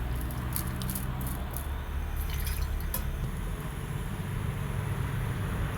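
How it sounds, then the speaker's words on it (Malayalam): Water is poured over tender jackfruit and beans in a cooking pot, a short splashing trickle in the first few seconds that fades into a low, steady background hiss. "ഇടിച്ചക്കയും വെള്ളം ഒഴിക്കാം."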